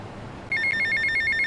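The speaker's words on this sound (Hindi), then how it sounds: "अब फोन आ गए।" A telephone rings inside GTA Vice City, starting abruptly and repeating as a steady electronic trill in rapid pulses, loud and clear with no voices.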